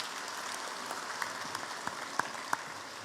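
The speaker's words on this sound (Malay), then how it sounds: "dengan tepukan bergemuruh untuk mereka." Applause for the delegates from Sabah at the UMNO general assembly, a quiet, steady patter of clapping from a hall crowd with a few sharper individual claps standing out, heard from a distance.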